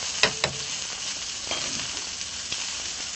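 Skirt steak sizzles in a pan while a pepperonata glaze goes over it, giving a continuous close frying hiss with a few small pops and spatters near the start.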